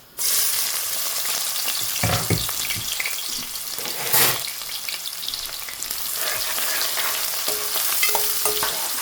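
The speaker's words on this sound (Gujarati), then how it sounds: "હવે આપણે પહેલાં ડુંગળી એડ કરી દેવાનું છે." Chopped onions hit hot oil for a shukla bumla curry and fry loudly with a dense, continuous crackling sizzle, punctuated by repeated scraping stirs of a spoon in the pan, with nobody talking.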